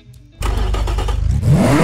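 A car engine in the racing game Automation bursts into life after a brief silence, then revs hard and holds a loud, steady drone that climbs in pitch toward the end.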